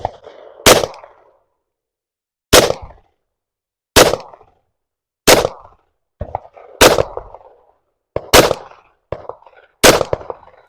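Single sharp pistol shots from a Ruger LC Charger in 5.7x28, seven loud cracks fired outdoors at uneven intervals of one to two seconds, each with a short echo and quiet gaps between.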